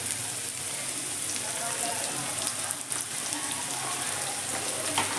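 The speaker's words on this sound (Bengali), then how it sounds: "নুন হলুদ দিয়ে আলুটাকে আমি ভেজে নিচ্ছি খুব ভালো করে" Potatoes frying in oil with salt and turmeric make a dense, even crackling sizzle like rain, close and continuous with small pops scattered through.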